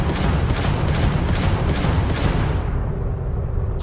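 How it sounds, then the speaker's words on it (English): Auto cannon on a spaceship in Starfield pounds out a quick string of loud repeating shots, close and steady, then cuts off abruptly, leaving a low rumbling tail. "The auto cannon."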